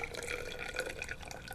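Water trickles and splashes steadily into a plastic graduated cylinder, a close, faint continuous pour with no talking.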